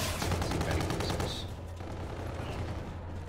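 Heavy weapon minigun fire in Call of Duty Infinite Warfare, a dense rapid rattle of shots for about one and a half seconds that cuts off and gives way to lower rumbling game noise, with no speech.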